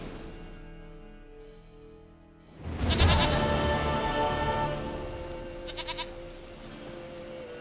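A goat bleats loudly in The Witcher 3, a wavering nasal cry rising over quieter ambient game sound and held for several seconds before trailing off.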